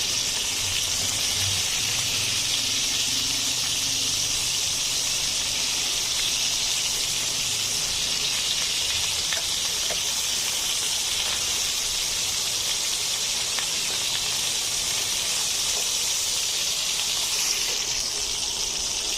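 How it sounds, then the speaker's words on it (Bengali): Bottle gourd leaf paturi fries in a pan with an unbroken, loud hissing sizzle that holds at the same level for almost twenty seconds, with no talk. "আমার সবগুলো পাতুরি ভাজা হয়ে গেছে এবার আমি তুলে নিচ্ছি"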